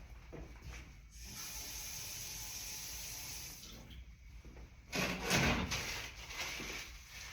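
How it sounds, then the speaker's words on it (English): Hands being washed under a running tap in a clinic-style setting, a steady hiss of flowing water with rubbing and splashing that swells louder near the end, no talking. "I'm going to wash my hands first."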